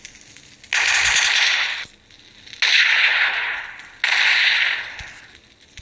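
Bursts of automatic gunfire from a weapon in a modded shooter video game, three long sustained rattling volleys separated by short pauses, loud and close with no talking.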